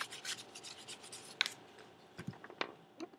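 Sticky sticker residue is rubbed off a book with Goo Gone, a soft, close, rasping rub with a few sharper scrapes and taps.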